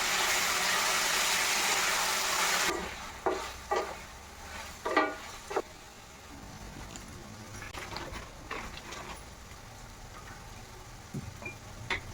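Garlic, dried chilli, tomato, coriander and asafoetida fry in a pan, opening with a loud hiss that drops off sharply after a few seconds, then soft sizzling with scattered stirring scrapes and clicks.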